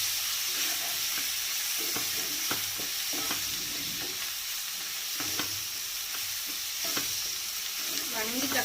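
Dried fish with tomatoes stirred in a hot pan, a steady sizzle of frying with repeated scraping strokes of a spoon against the pan throughout, close and fairly loud, no talking.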